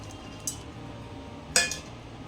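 Holi chevda of seasoned puffed dhani, spicy gathiya and fried dry fruits tossed together in a bowl, giving two short crisp clinks and rustles against a steady low background hum.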